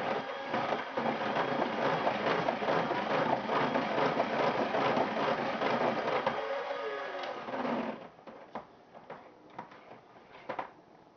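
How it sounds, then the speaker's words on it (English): Electric hand mixer whipping egg whites into stiff peaks for capirotada, a steady loud whirring drone with beater clatter for about eight seconds, then stopping, leaving faint kitchen rustles. "Then I take the electric mixer and mix the whites until they're nice,"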